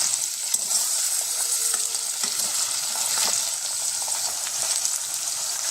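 Vegetables for veg biryani sizzle in hot oil in a pan, a steady loud frying hiss with occasional stirring scrapes and clinks, continuous throughout with no talk.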